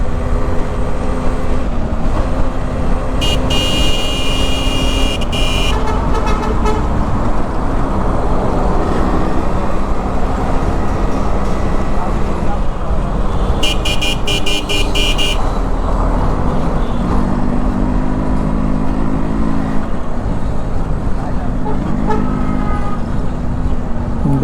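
A thirty-year-old Yamaha RX-S115 motorcycle in like-new condition runs steadily throughout, its engine loud and continuous over road noise, with two bursts of a high horn-like toot partway through.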